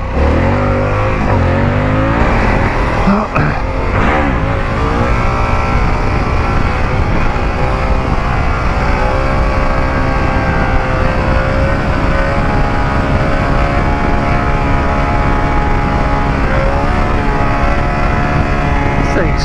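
A Harley-Davidson touring motorcycle with Brembo brakes rides along steadily, its engine roaring loud and close without a break, wind rushing over it.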